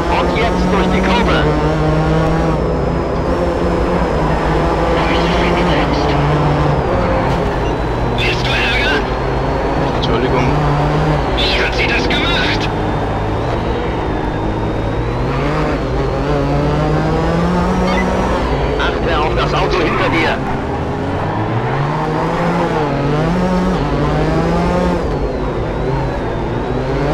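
Race car engines from the PS2 racing game R: Racing drone and rev continuously, their pitch climbing and dropping through gear changes for the whole stretch, loud and steady with a voice talking over them.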